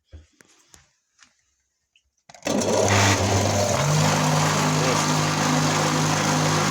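A homemade electric grain crusher's small motor starts up after brief quiet handling noises, then runs steadily with a loud, constant whirring drone and slight pulsing.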